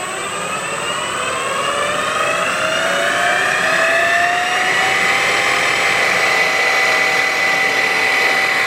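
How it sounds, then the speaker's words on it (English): A small power drill whines at high pitch, its tone slowly rising as it bores steadily through metal into brass on a battery eliminator, loud and close. "So let's go ahead and just drill it out."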